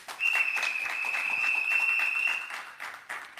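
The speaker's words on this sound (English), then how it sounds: "I'd give them a round of applause, please" Applause from an evening audience for a panel of speakers at a community event, a dense, steady patter of clapping at moderate loudness with a constant high electronic tone running through most of it.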